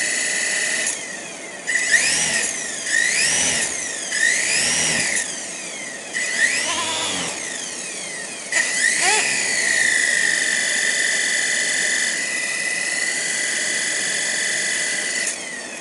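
A radio-controlled helicopter with a bad vibration runs close by, giving a steady high-pitched motor and rotor whine with repeated rising and falling pitch sweeps and a brief rough surge midway.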